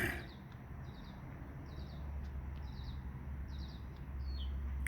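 A red-bellied woodpecker calls outside in a series of short, repeated high chirping notes spaced about a second apart, moderately distant over a steady low background rumble.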